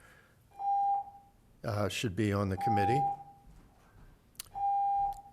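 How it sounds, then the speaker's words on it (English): A fire alarm sounds during a public arts commission meeting, giving three steady electronic beeps spaced about two seconds apart while a person speaks between them. "Is that a fire alarm?"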